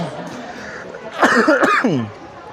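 A single short cough bursts out after a moment of quiet room noise, followed by a brief voiced trailing sound, close to the microphone.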